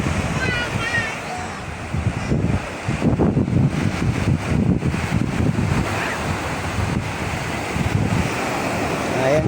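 Pacific Ocean surf and strong wind at a beach, a steady loud roar with heavy wind buffeting the microphone and people talking in the background.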